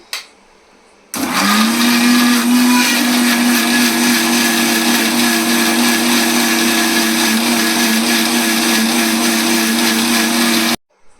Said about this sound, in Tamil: இப்போ நம்ம மிக்சியில் ஃபஸ்ட்டு அரைச்சி எடுத்துக்கலாம்